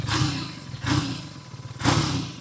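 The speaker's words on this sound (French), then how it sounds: "Donc ça, c'est bruit moteur normal." A BMW R nineT motorcycle engine idles with a low, steady putter, its normal stock sound, swelling in three rhythmic surges about a second apart, close by.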